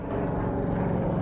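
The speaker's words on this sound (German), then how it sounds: "Und wir haben mal ein Flugzeug vorbeigeschickt" A propeller airplane flies past overhead at a lakeside fishing spot, a loud, steady low engine drone that fills the whole moment with no speech.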